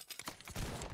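Musket volley fire in the video game Holdfast: Nations at War, a dense crackling fusillade of many shots overlapping into a rolling roar, building and sustained across the second, fairly distant and moderately loud.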